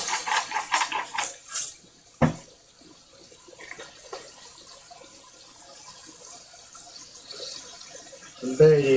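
Hot water running from a kitchen faucet while meatballs are being cooked, a steady rushing stream that continues through most of the stretch, with a few brief knocks and clatters at the start and end.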